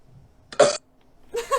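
Two short, loud burps from someone who has just gulped Sprite in a drinking challenge, one sharp and one lower and broken, separated by a brief silence.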